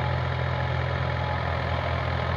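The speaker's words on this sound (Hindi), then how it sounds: "देखिए ट्रैक्टर चल रहा है, जुताई हो रही है" Tractor engine ploughing a potato field drones steadily and loudly with a low throbbing hum and broad mechanical rumble, close by and unbroken throughout.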